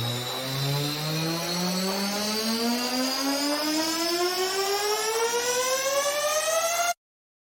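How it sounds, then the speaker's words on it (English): A tense electronic riser built from sander Foley layered with inharmonic noise, a loud rising siren-like tone with stacked harmonics climbing steadily for about seven seconds before stopping abruptly into silence. "tense riser that built up really well into the drop"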